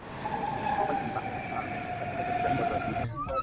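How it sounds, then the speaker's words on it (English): A train bound for Munich hums and rumbles steadily, with sustained tonal whines from the wheels or motors and a brief sharper squeal near the end. "I'm waiting for the train that's gonna take me straight to Munich"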